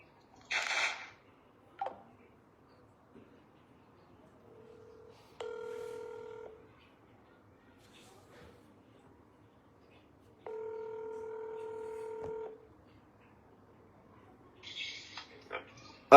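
Telephone keypad dialing tones, two long steady multi-tone beeps separated by a pause, faint and isolated, with a few brief clicks and short noises around them in an otherwise quiet room.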